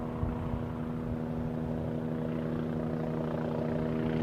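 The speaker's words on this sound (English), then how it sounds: "It's a helicopter." A helicopter flying near Newcastle airport, a steady droning engine and rotor hum with strong low tonal layers, continuous and even in level throughout, with no voices.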